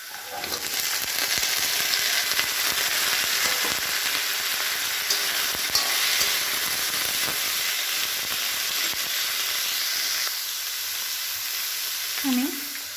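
Cut cauliflower, flat beans and carrots frying in a hot pan for a mixed vegetable dish, a steady loud sizzle and hiss with stirring scrapes running throughout, no talk.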